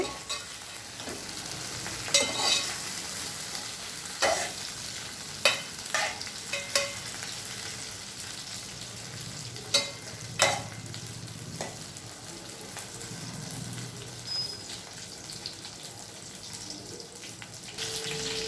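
Soft sizzling of eggplant frying in oil, with occasional sharp clinks and scraping of a utensil stirring in the pan, steady and close.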